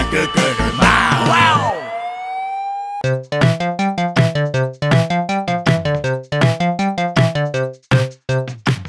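A fire engine siren from a Japanese children's song about working vehicles opens with a rising and falling wail, then gives way to a bright, rhythmic, tonal pattern of repeated sharp pulses that continue steadily and loudly to the end.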